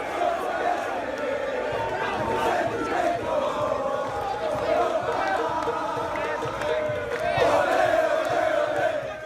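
A simulated stadium crowd in Football Manager 2018 roars steadily for an NYCFC versus Atlanta United conference final, a continuous loud wash of voices that swells near the end.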